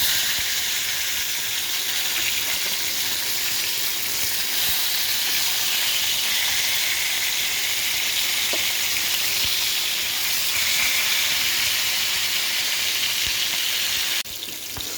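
A fish fries in a pan at raised heat, giving a constant loud crackling sizzle that runs unbroken for about fourteen seconds before briefly dipping.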